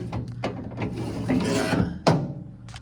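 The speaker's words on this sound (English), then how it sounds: "I found out why this window isn't going up. It's going up now." The window mechanism of a 1954 Oldsmobile rolls back up along its track after being off it, with close, uneven ratcheting and grinding scrapes and a sharper clunk near the end.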